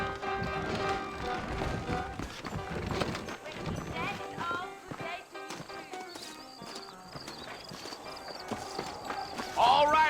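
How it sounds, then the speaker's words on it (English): Horse hooves clip-clop in the video game Red Dead Redemption as riders set off from town. The hoofbeats are busy and quick at first and grow sparser, and they sit under music and game sound. "I got the horses saddled up and ready out front."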